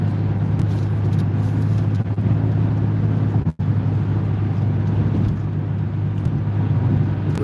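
A Ford Bronco cruises on an interstate expressway at about 75 mph, with a steady, loud rumble of road and engine noise throughout and one brief dropout midway.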